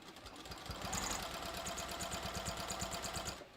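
A sewing machine stitches along the side seam of a bathrobe, its needle pounding in a fast, steady rhythm that starts after a brief pause and runs nearly to the end, close and moderately loud.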